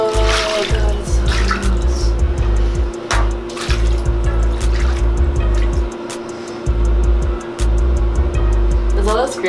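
A bathtub drains slowly after hair rinsing, giving low, repeated gurgling surges over a steady hum, with a thin trickle of water above it.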